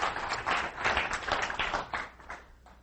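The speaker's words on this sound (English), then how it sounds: "Everyone give her a hand of applause." An audience at a business growth speaking event claps together in a dense, sustained round of applause that thins and fades toward the end.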